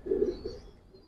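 A pigeon coos softly and close by, one low throaty call followed by a fainter second murmur, with no other sound around it.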